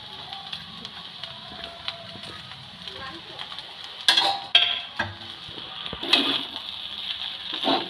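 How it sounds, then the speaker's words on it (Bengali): A spoon stirs scrambled egg through oil-fried rice with winter vegetables in a pan, soft scraping and sizzling broken by sharp utensil knocks, close up, with a voice talking over it. "খুব ভালো করে ডিম দিয়ে মিক্স করে নেব"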